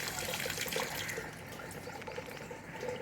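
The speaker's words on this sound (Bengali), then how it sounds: "জল পড়ে যাচ্ছে, কলটা বন্ধ করি।" A tap on a rooftop runs steadily, its water splashing and trickling in a constant wash of sound at moderate distance, with faint outdoor ambience around it.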